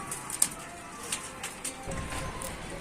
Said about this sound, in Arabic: ده حمام زار،